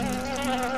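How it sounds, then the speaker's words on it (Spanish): A steady, droning buzz of flies with a strong low hum, sustained and close throughout, like many flies swarming in a basement. "encuentran un sótano lleno de moscas"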